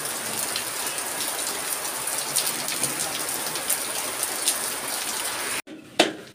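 Heavy tropical rain pours steadily in a dense, hissing roar, with scattered louder drops, then cuts off abruptly near the end.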